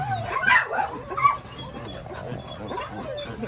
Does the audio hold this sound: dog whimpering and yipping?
yes